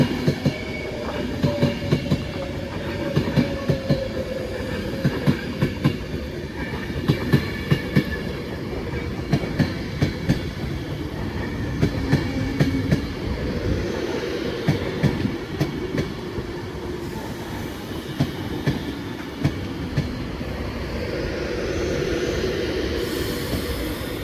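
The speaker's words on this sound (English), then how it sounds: "Train now arriving in is a 390 going to Glasgow Central." A Class 390 passenger train rolls into Wigan North Western station with steady rumbling and clickety-clack, wheels squealing as it slows, continuous and fairly loud throughout.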